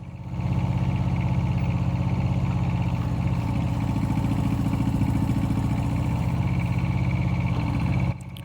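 A Rippa R10-6 mini excavator runs steadily close by with a loud, continuous mid-pitched engine drone and faint clatter as it takes its first scoop of digging, the noise dropping off at the very end.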